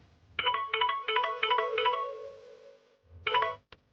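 A phone rings with an incoming call in a Telugu TV serial, giving a melodic electronic ringtone in several quick repeated bursts, then a pause and one more short burst, clear and close.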